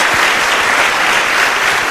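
A church congregation claps in loud, dense, continuous applause throughout, with no voices over it.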